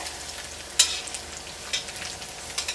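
Ginger and garlic frying in oil in an iron wok: a continuous soft crackling sizzle with a few sharper pops, close and moderately quiet, no voices.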